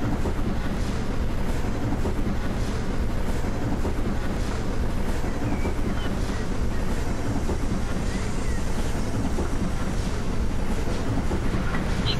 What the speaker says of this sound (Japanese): 列車は国境を越えて多賀見地域に入ろうとしています